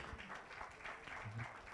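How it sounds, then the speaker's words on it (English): Conference audience applauding, a moderate patter of many hands with a faint voice underneath, fairly quiet and steady. "Let's give a better round of applause"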